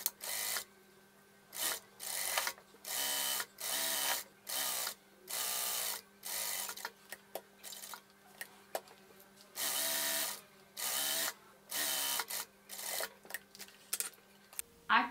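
A sewing machine stitches the neckline seam of a batwing-sleeve dress with a bow at the neck, running in about a dozen short, even bursts separated by brief pauses over a steady low hum.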